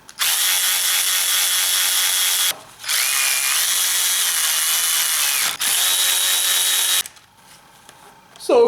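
Power drill driving in a bolt on a BMW N20 engine during valvetronic eccentric shaft work, three loud sustained whirring bursts with brief pauses, followed by a quieter stretch.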